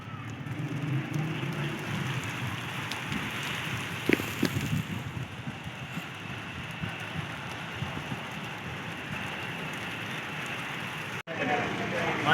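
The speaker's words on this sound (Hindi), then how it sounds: "क्योंकि बारिश हो रही है।" Heavy stormy rain pouring steadily at close range, with a broad constant wash and scattered louder drops, accompanied by low rumbling and brief traffic-like noise underneath.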